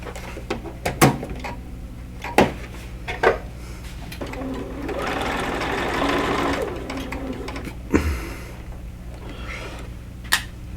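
A sewing machine stitches two fabric pieces together in one loud, steady whirring run of about three seconds, set among sharp clicks and handling knocks before and after. No one talks.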